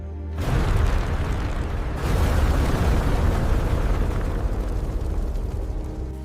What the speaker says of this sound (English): When the capsule bursts, deadly spores rain down upon the colony below.